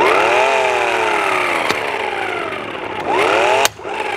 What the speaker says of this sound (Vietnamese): nó nghe cốc một cái thì nó đã đủ lực, thành ra mình không cần phải siết nữa